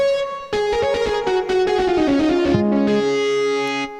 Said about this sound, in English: distorted guitar kind of voice